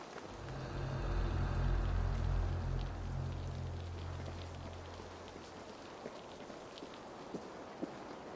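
Continuous rain in an underground area of a video game, a soft even hiss with a low rumbling undertone early on and a few faint scattered drips later.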